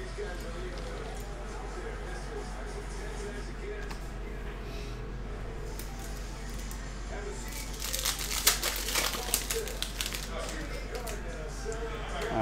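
Foil wrapper of a 2021 Select baseball hobby pack crinkles and tears open, with a denser burst of ripping and card handling near the end over a steady low hum.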